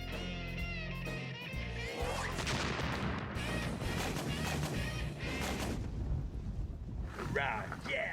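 A flak gun mounted on a half-track fires amid heavy, rumbling blasts and crashing noise, loud and continuous with wind buffeting, while a voice talks over it.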